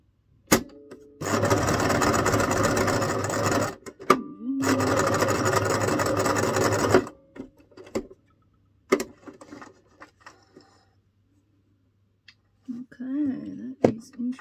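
A sewing machine stitches the sides of handmade journal pages in two rapid, buzzing bursts of a few seconds each, separated by clicks and pauses, with someone talking briefly near the end.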